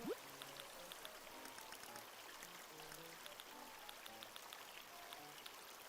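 Gentle rain patters steadily in the video game Animal Crossing. It is a soft, continuous wash of drops with faint, sparse musical tones beneath it and no speech.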